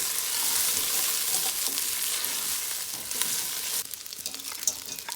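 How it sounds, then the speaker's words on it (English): Rice sizzles and crackles in a hot pan, a steady bright hiss up close, with faint scraping as it is stirred. "I can hear the rice frying up."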